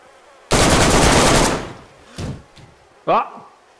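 A close, loud burst of automatic gunfire in the PS4 survival game DayZ lasts about a second. Two shorter, fainter shots or impacts follow, then a brief scrape with a falling, chirping tone.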